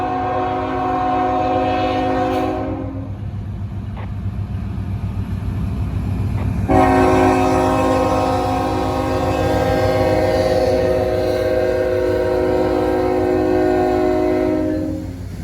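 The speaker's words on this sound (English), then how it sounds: "Here comes the train, finally coming up the hill." A street-running train climbing a hill blares its horn in long sustained blasts over a heavy, continuous diesel engine rumble, close by, with a brief lull in the horn midway.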